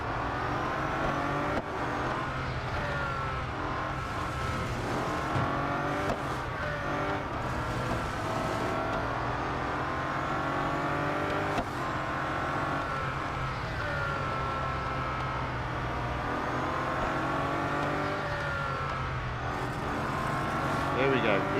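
A Bugatti Centodieci race car roars through laps of a Real Racing 3 race, its engine revving and shifting continuously with rising and falling pitch sweeps, while someone talks over the steady engine noise throughout.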